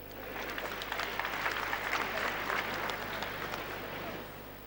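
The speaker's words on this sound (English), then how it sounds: "Shall we clap for Jesus?" A congregation claps at a thanksgiving service for the final funeral rites of the Asantehene, a broad, steady wash of applause with a low hum underneath, rising slightly and fading after a few seconds.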